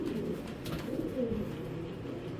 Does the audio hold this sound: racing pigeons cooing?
yes